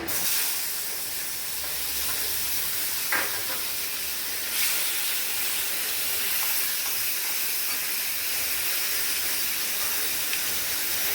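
Small chopped tomatoes are tipped into a hot pan in a home kitchen, setting off a loud, steady steam-like hiss with a couple of brief clicks along the way.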